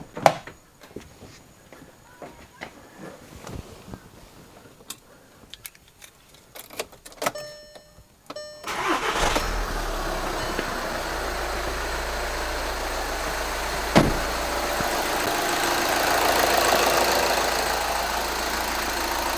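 A 2013 VW Jetta TDI Sportwagen 2.0 diesel is started after some light clicks and jangling, catches with a loud burst, then settles into a steady, close idle that holds to the end.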